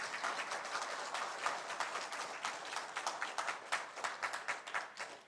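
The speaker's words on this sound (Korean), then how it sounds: "우리 이제 김혜재 의원님께 박수 한번 크게 부탁드립니다." Applause from an audience at a carbon-neutrality policy forum in Yeosu, honoring a member of parliament; many hands clap in a dense, steady patter that thins toward the end into more distinct individual claps, moderately quiet.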